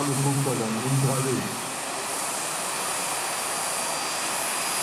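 Two turbines of a large radio-controlled Bell JetRanger helicopter spool up at an RC flight show, a steady loud hissing whine that holds throughout, with a voice talking over the first second or so.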